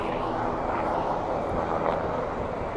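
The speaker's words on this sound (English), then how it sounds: "How beautiful is this helicopter that just left in front of" A helicopter leaving a heliport in New York, heard as a steady, loud rotor and engine roar that holds throughout, with faint talk underneath.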